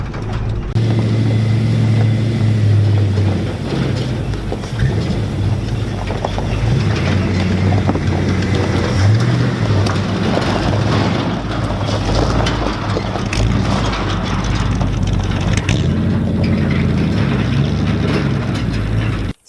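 The engine of a 1972 Dodge truck with a bad clutch runs steadily as the truck creeps forward, a loud, continuous low rumble with wind buffeting the microphone throughout.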